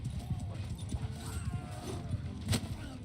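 Horse hooves clop and a horse whinnies in a Viking-era battle in the War Sails Viking video game, quiet and brief, mixed with soft game sounds and a sharper hit around the middle.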